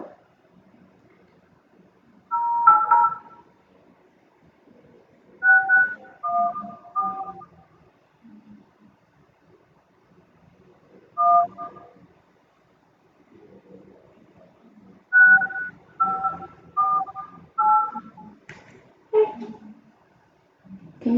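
Phone keypad tones from a call being dialed to a survey respondent, short bursts of paired beeps in two clusters separated by pauses, loud and close, with no talking.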